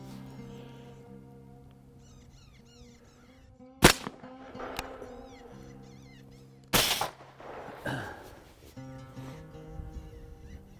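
Two sharp, loud rifle cracks fired at a coyote on a Kansas hillside, several seconds apart, each standing out abruptly against quiet outdoor ambience with faint bird chirps.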